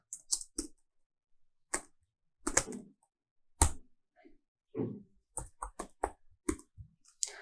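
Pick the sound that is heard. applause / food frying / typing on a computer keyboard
typing on a computer keyboard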